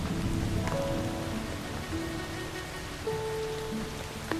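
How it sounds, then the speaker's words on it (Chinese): Light rain falls in a steady, even patter that fills the short stretch, with faint tonal background sounds and no one talking. "这样的小雨， 也不算什么"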